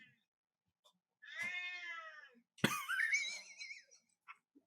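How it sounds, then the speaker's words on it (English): House cat meowing close to the microphone, two drawn-out meows in a row, the second sharper and more wavering, alone in an otherwise quiet room. "Like when I tell her to, she just meows more."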